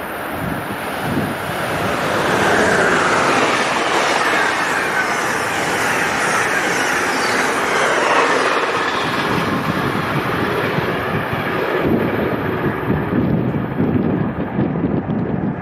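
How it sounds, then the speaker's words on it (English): Amtrak Pennsylvanian train number 42 passing through Princeton Junction, a loud, steady broadband roar and rush of wheels and air lasting the whole stretch, with some wind buffeting and no voices. "That was Amtrak Pennsylvania train number 42"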